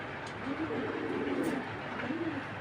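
Sapchila pigeons coo softly in the background, low rolling coos repeating against steady noise, with someone talking nearby.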